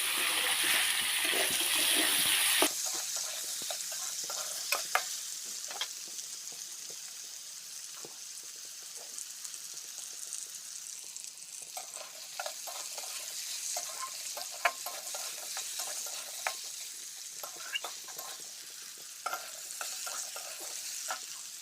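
Pui metuli, a leafy vegetable dish with cumin paste, mustard paste, chilli and turmeric, frying in a pan: a bright sizzle at first, then a quieter steady crackle with repeated close stirring scrapes and clinks.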